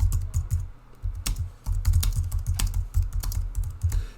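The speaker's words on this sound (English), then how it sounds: "And here I can start typing." Rapid computer keyboard typing, close and crisp, with quick irregular runs of key clicks and brief pauses between bursts, heard alone without any voice.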